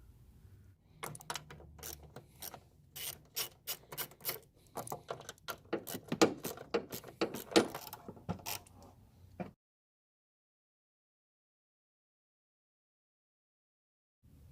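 A ratchet works the fasteners on a Kia Sorento coolant reservoir with bursts of quick clicks and creaks spread over several seconds. Quiet spells fall between the bursts, and near-silence follows.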